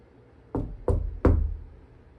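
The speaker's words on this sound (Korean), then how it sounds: "밖에서 노크하는 것 같아" Three firm knocks strike a wooden panel wall at an exhibition installation, evenly spaced and resonant with a deep thud, heard up close with no talking.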